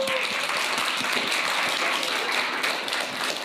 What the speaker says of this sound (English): We should give Joseph a big round of applause.